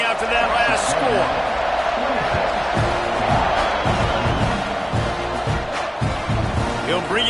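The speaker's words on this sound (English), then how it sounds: "this crowd is buzzing after that last score" Broad crowd noise fills a college football stadium between plays after a score, a dense steady roar with scattered shouts and whoops under loud public-address style commentary.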